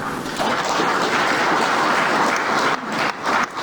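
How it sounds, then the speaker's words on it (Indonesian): An audience at a government briefing in Indonesia breaks into loud, dense applause that holds steady for a few seconds and then tapers with short dips near the end, with no talk over it. "Jangan tepuk tangan dulu."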